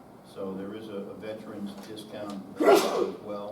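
A single sharp sneeze breaks out in a meeting room near the end, loud and sudden, while a person keeps speaking before and around it.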